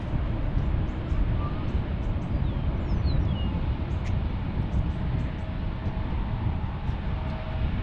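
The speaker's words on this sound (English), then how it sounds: "our next one will be that 787 Dreamliner" A Boeing 787 Dreamliner passes at DFW International Airport in Dallas, Texas, heard as a loud, steady broadband roar of jet engines that holds evenly throughout, with a few faint birds chirping above it.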